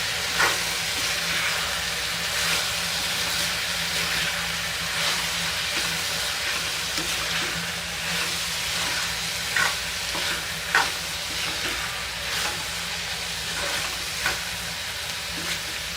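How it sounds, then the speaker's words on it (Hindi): Spices for brinjal bharta, turmeric, salt and red chilli, frying in a pan with a steady low sizzle while a spoon scrapes and stirs in irregular knocks, close and alone. "सबको मिक्स करेंगे।"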